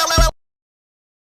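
A single brief, loud electronic robot burst, rich and buzzy, stops abruptly and leaves dead silence.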